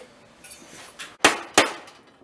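Four hammer blows striking a metal header pipe on a 1963 Mercury Comet with a Chevy engine, the last two loudest, each with a brief clanging ring, spaced unevenly.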